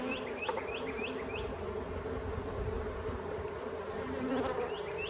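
Honeybees hum in a steady, dense drone around an open Layens hive while two colonies are being combined, a close continuous buzz with no talking.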